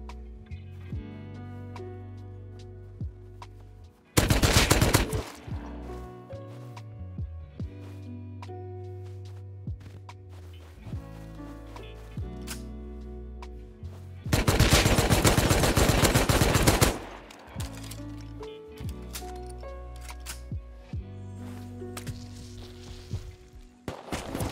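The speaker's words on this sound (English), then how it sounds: "I heard some gunshots across the railway at the place I just fought" Two loud bursts of rapid gunfire in the video game Rust, a short one early and a longer sustained volley later, over steady game music and background tones.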